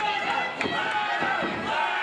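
Arena crowd at an independent wrestling pay-per-view roars and cheers steadily through a back body drop, a dense continuous swell with a few sharp impact-like bursts rising out of it.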